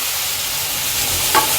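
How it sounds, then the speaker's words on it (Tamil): Turkey berries sautéing in a pan with tomato, curry leaves and tamarind for a chutney, a loud, continuous close sizzle over the short stretch with one small stirring clink near the end. "இப்போ இதை நல்லா நம்ம வதக்கிக்க போகிறோம்."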